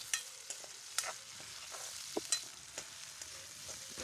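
Spices tempering in hot oil in a pan for tomato chutney give a soft, steady sizzle, with scattered crackles and pops and light stirring clicks, close by and with no voices.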